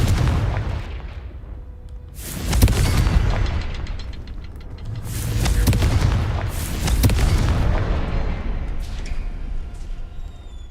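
Confringo blasting spell explosions in Hogwarts Legacy, several heavy booming bursts with rolling rumble, spread across the clip and loud against a quieter background.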